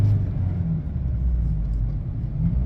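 A diesel truck rolls past nearby with a steady low engine rumble that holds even throughout, with no voices over it.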